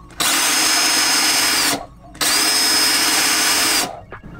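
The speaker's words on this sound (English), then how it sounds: "No one likes to drill a hole in their boat." A power drill whines loudly in two sustained bursts, biting through a sailboat's hard hull with a brief pause between, close up.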